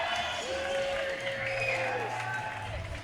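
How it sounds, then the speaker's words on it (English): Crowd applause fills a combat sports venue as an amateur fighter enters for a bout, steady and fairly close, with a tonal whistle or horn-like sound and faint talk mixed in. "Brandon Walsh enters the Combat Lab fighter to a huge applause"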